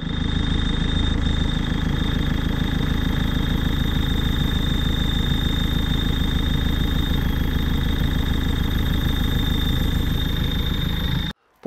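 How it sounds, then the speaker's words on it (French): A Peugeot 206 1.4 HDi diesel runs with a terribly noisy clutch release bearing, giving a loud, steady idling rumble with a fast mechanical rattle that holds for about eleven seconds before cutting off abruptly. "On a un bruit de butée qui est terrible"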